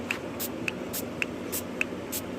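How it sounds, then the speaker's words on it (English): Quiet, evenly spaced hisses from a trigger spray bottle spraying bleach, four or five short bursts at a steady rhythm, close by. "I'm just lightly spraying so I get a good coverage."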